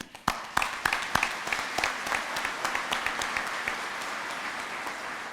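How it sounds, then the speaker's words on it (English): A commencement audience applauds in a large hall, with sharp, distinct claps at first that merge into a steady wash of moderate-volume clapping. "give your supporters a round of applause as well"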